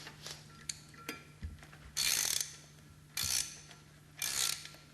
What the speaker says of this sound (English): Turn the trim screw clockwise.